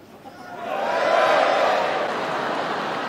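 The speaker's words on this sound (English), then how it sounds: "Huge cheer for Gusty" A crowd at an RAF police dog display swells into a cheer for a police dog, a broad roar of many voices rising over a second and then holding fairly steady before easing slightly.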